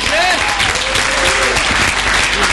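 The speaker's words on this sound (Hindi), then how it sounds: "अमार गौस के लिए ताली" Loud, sustained audience applause for Amar Ghaus at a university drama festival, dense clapping filling the hall throughout, with some cheering and crowd voices mixed in.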